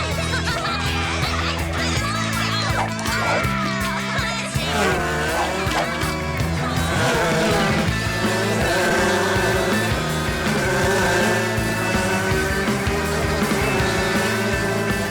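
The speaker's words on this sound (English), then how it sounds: "Go-kart racing." Go-kart engines race in a cartoon, with revving motors and squealing tires blended under a busy, loud musical score that runs continuously.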